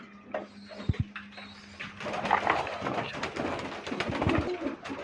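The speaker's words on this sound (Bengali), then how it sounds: "কবুতর সব ছড়াছিন্ন হয়ে আছে।" Pigeons in and around cages in a room coo and flutter, soft repeated cooing with wing rustles and shuffling, fairly close and continuous throughout.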